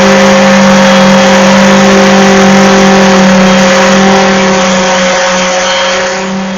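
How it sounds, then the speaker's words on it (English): A sander runs continuously while refinishing a dresser, a loud steady motor drone with a sustained hum that tapers slightly toward the end. "I'm going to turn the sander back on."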